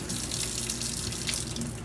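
Hot water runs steadily from the tap into the sink of a 2022 FSX 280RTX RV, a continuous close splashing hiss with no breaks.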